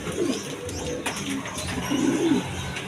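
Pigeons coo repeatedly in low, rolling phrases at a busy pigeon market, several birds calling close by over steady crowd and market hubbub.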